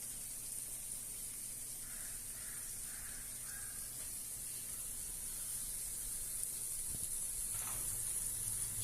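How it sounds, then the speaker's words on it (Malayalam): Kannur-style unniyappam, made without banana, frying in oil in the hollows of an appam pan, giving a steady, close, bright sizzling hiss that runs without a break and without any voices. "അതുപോലെ എല്ലാം ബാക്കിയുള്ള അപ്പെല്ലാം ചുട്ടെടുക്കാം"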